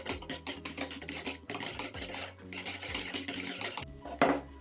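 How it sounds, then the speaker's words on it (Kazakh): A spoon works through thickened trifle cream with butter just added, giving steady, close scraping and swishing strokes in a quick repeating rhythm, with one sharper knock near the end and no talking. "Енді оған май қосып, жақсылап араластырамыз."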